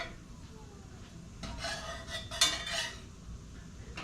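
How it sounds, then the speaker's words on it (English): A spatula scoops and scrapes under an egg frying in a pan for eggs in a basket, with soft scraping bursts and one sharper clink midway over faint sizzling. "just give it a little scoop under the egg to loosen everything up"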